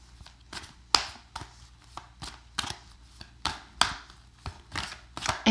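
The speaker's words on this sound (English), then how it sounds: "If for any reason you don't like the shuffling or you don't have time" Tarot cards are shuffled by hand, a series of crisp riffling bursts repeating roughly every half second, close and clear with no talking.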